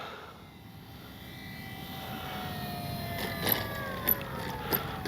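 RC model airplane with flaps coming in to land at a flying field, its engine drone rising and falling in pitch as it passes, steady and moderately loud, with a few brief sharp peaks near the end.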